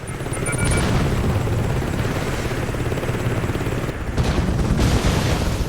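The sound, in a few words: enemy helicopter attacking in Saints Row 2 video game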